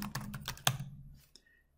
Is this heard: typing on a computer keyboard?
yes